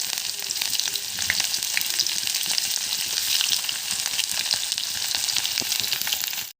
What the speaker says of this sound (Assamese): এতিয়া মই ইয়াত পিঁয়াজ দি দিম।